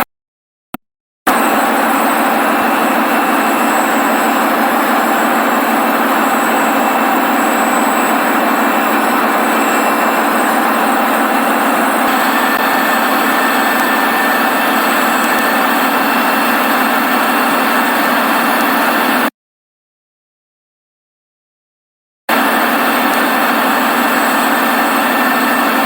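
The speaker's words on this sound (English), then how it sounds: "So before we have started our diesel engine for generator number 2" A diesel engine driving generator number 2 in a VR power plant simulation, running as a steady, loud, continuous drone with a break in the middle.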